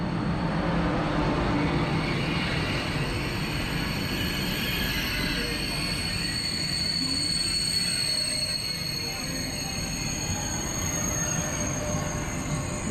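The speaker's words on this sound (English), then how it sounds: "this is my train coming in" A TGV inOui double-deck high-speed train rolls in steadily with a low rumble, and high metallic wheel squeals ring out over it throughout.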